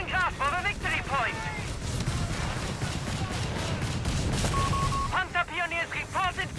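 Artillery barrage in the World War II strategy game Company of Heroes 3, a dense rumble of explosions and gunfire running under a commentator's continuous speech.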